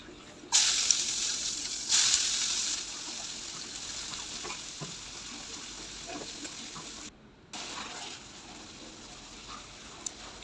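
Onions go into hot oil in a pan while aar fish is cooked, making sudden hissing bursts of sizzle that settle into a quieter, steady frying crackle with small clinks, and no one speaks.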